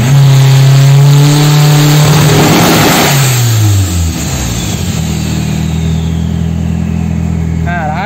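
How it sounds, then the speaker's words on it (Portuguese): Turbocharged car engine revving hard, a loud rising drone that swoops down around the middle and settles into a steady high rumble with a whistling turbo note near the end. "Cara, que barulho da turbina, ó."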